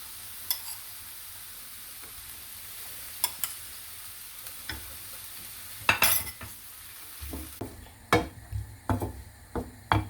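Boiled green lentils and fried aubergine are stirred in a pan: a steady sizzle runs beneath irregular scraping and clinking strokes that grow louder and more frequent near the end, with no speech.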